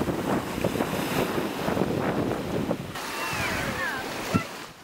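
Black Sea waves wash onto the shore by a seaside sanatorium about 100 km from Kherson, a continuous rushing surf mixed with gusty wind buffeting the microphone and faint distant voices.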